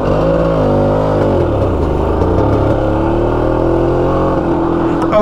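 A 48-year-old motorcycle rides after a brake adjustment, its engine loud and close with a steady drone that rises and falls as the rider works the throttle, no voices.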